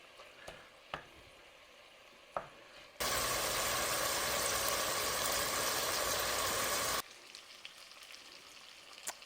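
Crumbled sausage frying in a pan, a steady loud sizzle starting abruptly and running about four seconds between quiet stretches with a few light clicks.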